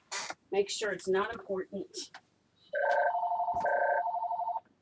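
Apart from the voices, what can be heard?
telephone ringing with an incoming call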